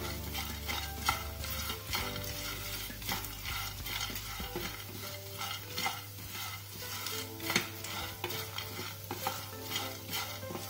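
Spiced chickpeas (chatpata chana) with chili flakes and asafoetida stirred in a pan, a spoon scraping steadily through the mix over a continuous sizzle, close and moderately loud with no talking.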